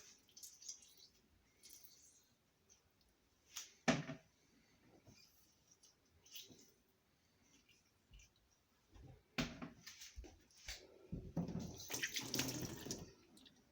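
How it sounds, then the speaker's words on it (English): Water runs in short intermittent bursts into a blender of plums, then pours more steadily toward the end, with small clunks and drips between. "I'm going to add enough water to cover all my fruits."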